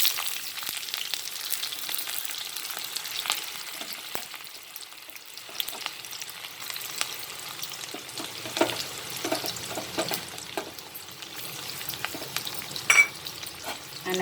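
Sliced onion and green chili sauté in hot mustard oil in a karai, a steady crackling sizzle broken by occasional scrapes and stirs, close and moderately loud with no voices.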